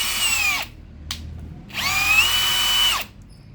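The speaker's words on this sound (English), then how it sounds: "Here is a brick, and the drill is in non-hammer mode." A drill fitted with a Bosch multi construction bit bores into brick in non-hammer mode, a close high whine in two bursts with a short blip between them and a pause in the middle.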